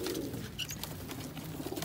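Pigeons coo softly in low, throaty murmurs, faint and somewhat distant against quiet background noise.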